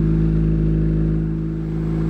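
A car engine idles steadily up close, a low droning hum with a constant mechanical tone and no talking.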